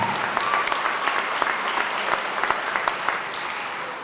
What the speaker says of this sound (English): can we get another round of applause for the Northwest Local School Board?